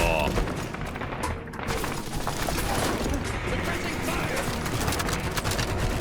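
Gunfire from 10mm machine guns and .308 rifles in a Fallout game rattles in rapid, dense bursts amid explosions and mechanical clatter, a continuous loud barrage with a voice talking over it.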